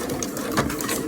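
A sewing machine stitches down fabric binding in a beginner's binding job, its motor running in a steady, close, continuous whir with no pauses.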